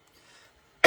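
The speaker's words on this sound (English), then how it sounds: "I'm still coughing, but not as bad" A single sharp cough bursts out at the very end after near silence, close and loud.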